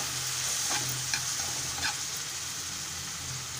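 An onion and tomato mixture with salt and turmeric sizzles softly in oil for Maharashtrian egg bhurji, stirred with a few light spoon scrapes against the pan.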